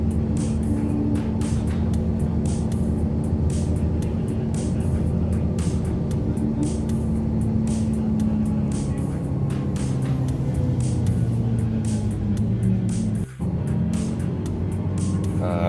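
Steady engine drone and road rumble heard from inside a city bus travelling along Rama 2 road in Bangkok past expressway construction, a continuous low hum with broadband road noise and a brief dip near the end.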